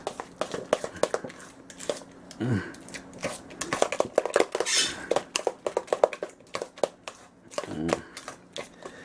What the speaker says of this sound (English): and then we're going to commit to stirring our stuff.